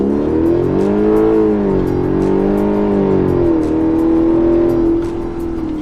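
A 2012 Hyundai Genesis 5.0 R-Spec with about 140,000 miles on it makes a 0-60 mph run in automatic mode with traction control on, its V8 rising loudly through several upshifts, heard from inside the car.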